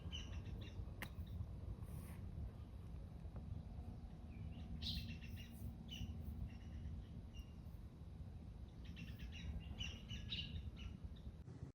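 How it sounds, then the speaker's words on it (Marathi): Faint, distant bird chirps and short tweets scatter over a steady outdoor hum, with no voices, at Tandulwadi fort. "लास्ट टाईम जसे पक्ष्यांची आवाज येत होती तशीच आत्ता पण येत आहेत"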